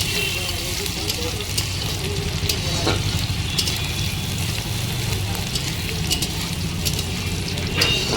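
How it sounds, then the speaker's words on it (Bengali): Onions fry in a pan, browning lightly with a loud, dense and unbroken sizzle. A few faint clinks of stirring come through close by. "পেঁয়াজটা হালকা ব্রাউন করে প্রথমে ভেজে নিই"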